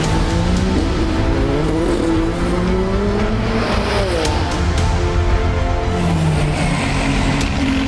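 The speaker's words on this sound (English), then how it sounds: "Hypercar qualifying has started" Ferrari hypercars racing through qualifying at Monza, with loud high-pitched engine notes rising and falling as cars pass and shift, continuous track noise and several overlapping passes close by.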